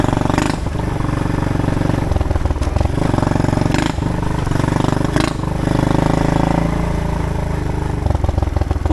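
A Loncin 110/125 motorcycle ridden hard over muddy ground, its small engine loud and close, rising and falling in revs with rattling clatter throughout and no clear talk.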